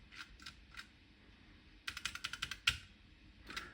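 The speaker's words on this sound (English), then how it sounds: "Pressing on the keyboard." Keys pressed on a Grundy NewBrain computer keyboard: a few separate taps, then a quick run of about eight crisp clicks and one louder strike, with a final tap, close and fairly quiet, no talking.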